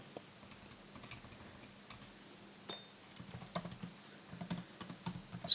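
Computer keyboard keys are typed at a desk while working in an Excel spreadsheet, with soft, close taps in irregular bursts that grow busier and louder toward the end, heard alone without speech.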